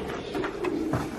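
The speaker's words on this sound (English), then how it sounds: "how many freaking pigeons are here" Many pigeons roost inside an abandoned church. Low, soft cooing rises in a few brief pulses over a hollow, roomy background, with no voices.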